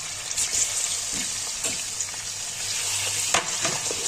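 Half a kilo of chicken frying with ginger in oil for a korma, a steady close sizzle with occasional stirring scrapes and a few sharper crackles, no one speaking.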